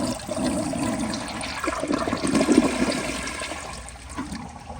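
A 1991 Kilgore Aladdin comfort-height toilet flushes up close, a steady rushing swirl of water lasting several seconds, peaking midway and then fading into a quieter trickle as the bowl refills.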